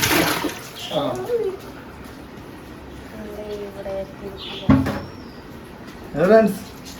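Water is tipped from a bucket into a fish tank holding alligator gar during a water change. Brief splashes and sloshes come between stretches of nearby talking voices.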